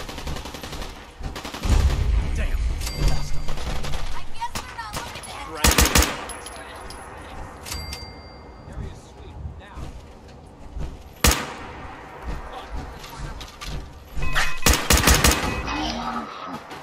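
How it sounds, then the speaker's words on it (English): Gunfire in the video game Fallout 4, with bursts of automatic weapon fire and sharp single shots scattered over a background of game music and ambience, some volleys loud and close, others more distant. "And I'm hearing some gunshots."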